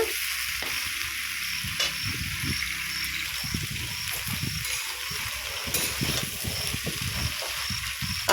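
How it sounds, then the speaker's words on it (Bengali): Leafy greens from the Sundarbans fry in a pan with a steady, close sizzle, broken by uneven low thumps and scrapes from stirring, with no voices. "খুব সুন্দর করে ভেজে নেব"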